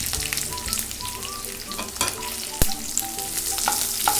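Onions frying in a pan with curry leaves and green chili for scrambled egg curry give a steady, moderate sizzle with occasional stirring clinks and scrapes, heard alone without speech.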